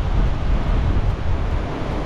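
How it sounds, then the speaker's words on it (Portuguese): A car rocked by strong wind gusts during a storm, heard from inside as a steady, loud roaring rush of wind with a low rumble that swells and eases slightly throughout. "de vez em quando vem uma rajada de vento"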